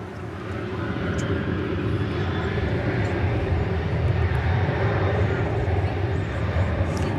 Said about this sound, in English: That's American Flight 2438. It's off to Houston George Bush Intercontinental Worldwide